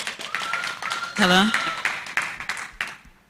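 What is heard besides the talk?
applause for a speaker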